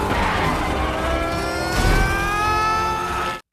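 A street racing car from the animated film Turbo roars past with a loud engine whine that climbs in pitch as it accelerates, a strong close pass with tire and road rumble, cutting off abruptly at the end.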